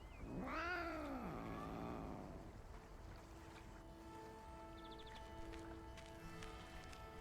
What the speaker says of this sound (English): That's a realistic cat noise.